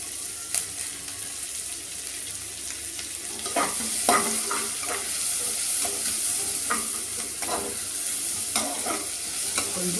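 Onions sauté in a hot pan with a loud continuous sizzle, punctuated by repeated stirring scrapes and clacks of a spoon, close up and without talk.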